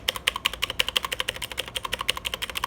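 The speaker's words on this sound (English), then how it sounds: "here's the spacebar sound" Spacebar of a Redragon K552 mechanical keyboard with blue switches, pressed repeatedly in a quick, fairly steady rhythm of sharp clicky clacks, close and clear with no talking.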